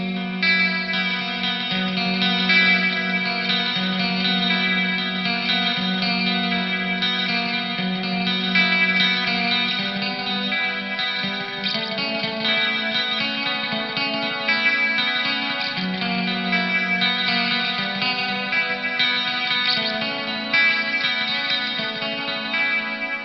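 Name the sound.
Marshall CODE 25 clean patch with chorus, multi-tap delay, spring reverb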